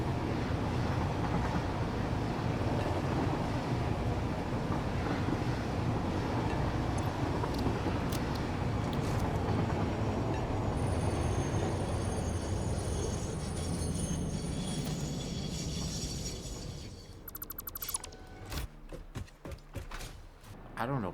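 Trains running in the video game Satisfactory make a loud, dense, continuous mechanical rumble that keeps on for most of the stretch, then thins out and breaks up near the end.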